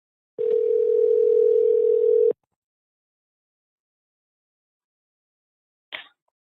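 A steady telephone dial tone hums for about two seconds after a caller hangs up, then cuts to silence, ending with a faint brief click.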